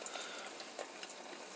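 Eggs fry in a green pan with a steady, quiet sizzle and a few small pops and crackles rising from the spatter. No one speaks over it.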